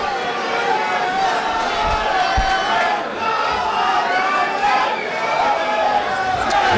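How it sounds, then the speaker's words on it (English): A big boxing-match audience roars in a steady, loud wash of crowd noise and chatter throughout, with fans of both fighters making a racket and a couple of low thumps partway through. "Both fighters with big crowds in the audience making a lot of noise."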